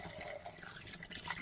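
Water poured into a Manchurian gravy thickened with cornflour slurry, a brief steady splashing trickle of liquid with no voices over it.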